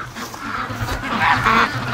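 Ducks in a freshly cleaned pen give close, loud overlapping quacks and honking calls, a busy flock chattering continuously.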